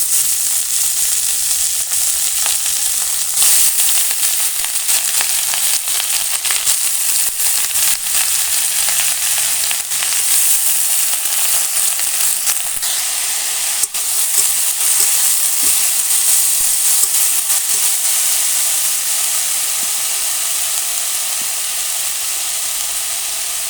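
Thin, long strips of potato and eggplant fry in hot oil, giving a loud, continuous bright sizzle and hiss that holds steady for the whole stretch, close by, with no voices.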